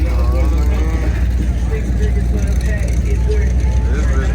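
A car engine idling at an outdoor car show in Detroit among custom trucks and G-body cars, a loud, deep, constant rumble close by, with crowd noise and voices talking over it.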